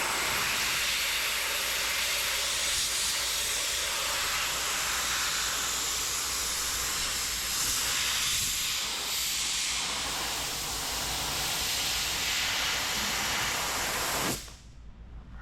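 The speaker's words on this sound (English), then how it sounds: "I'm gonna hit that with the air nozzle and get that out" Compressed air hisses steadily from an air nozzle, blowing trapped moisture out from under paint protection film on the hood of a 1988 BMW M3 E30. The rush is loud and continuous, then cuts off sharply near the end.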